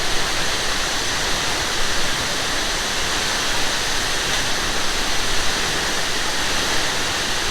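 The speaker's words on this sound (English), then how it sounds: "I ain't never seen a waterfall like this." La Fortuna waterfall in Costa Rica roars as a steady, dense wash of falling water, loud and close, with no break or change from start to end.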